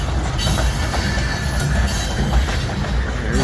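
A long, lightly loaded freight train of boxcars, led by E&LS locomotives 503 and 501, rolls past close by with a steady heavy rumble and rattling wheels throughout.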